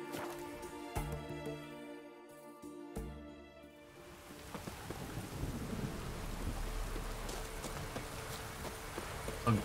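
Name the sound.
thunderstorm with rain in video game The Witcher 3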